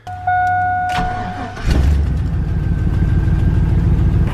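A truck's starter whirs briefly, then the engine catches and settles into a loud, steady idle that rumbles on without talk.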